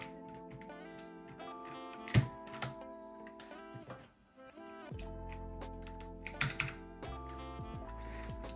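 Keys clack on a mechanical keyboard with keycaps, scattered irregular taps and short bursts of typing over a steady background of music-like tones.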